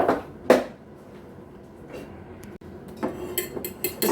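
A fork whisking egg in a dish for soup dumplings, heard as a few close clinks and scrapes against the dish with brief rapid tapping near the end, over a soft kitchen background.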